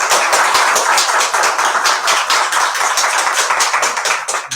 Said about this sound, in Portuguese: Queria que vocês dessem uma salva de palmas para eles, por favor.